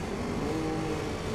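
A fast motorbike engine in GTA San Andreas holds a steady, continuous drone at speed, fairly loud and close, with no voices over it.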